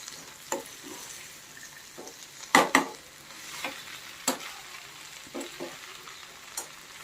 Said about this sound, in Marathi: आपण 1 मिनिट भाजून घेऊया या भाज्या तेलामध्ये